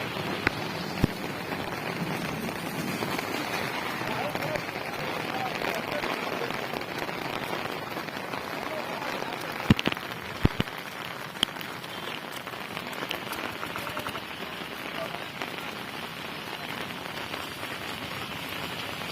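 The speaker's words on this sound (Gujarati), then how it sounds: "હજી અનરાધાર વરસાદ પડી રહ્યો છે" A torrential downpour falls on Lalavadar village in Amreli taluka, a steady, loud roar of rain beating on surfaces with a few sharp knocks partway through.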